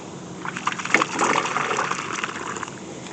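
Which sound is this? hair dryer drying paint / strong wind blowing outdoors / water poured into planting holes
water poured into planting holes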